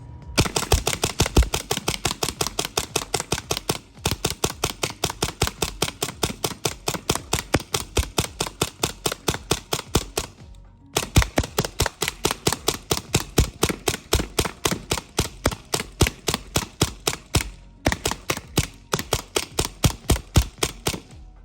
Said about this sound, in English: I'm gonna fire as fast as I can to create a jams, and so that way the lock bolt can save it from a chop